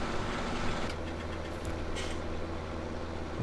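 A tractor engine in Farming Simulator 2017 produces a steady low rumble and idle-like drone at moderate volume, heard alone without talking.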